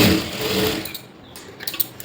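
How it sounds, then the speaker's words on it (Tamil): A sewing machine runs a quarter-inch stitch along a blouse hook strip, a brief close burst that fades out within about a second. "ரெண்டாவதாக உள்ள பீஸில் பாதி மட்டும் ஒரு 1/4 இன்ச் இப்படி ஒரு தையல் போட்டு எடுத்துக்கோங்க"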